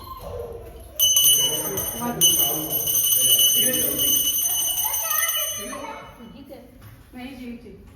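A bell rings bright and sustained for several seconds during worship of a family deity at a village temple, starting abruptly, while people talk close by throughout.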